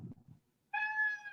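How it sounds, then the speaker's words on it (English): A house cat gives a single drawn-out meow nearby, clear and fairly loud, following a few quiet low murmurs. "I have a cat who is right below me, and he will not shut up"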